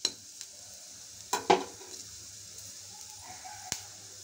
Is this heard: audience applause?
no